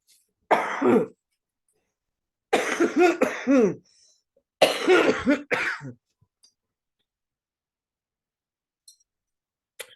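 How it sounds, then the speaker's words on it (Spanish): Three separate bursts of harsh coughing, each about a second long, close and loud, with silence in between. "todavía no se me ha quitado totalmente la tos."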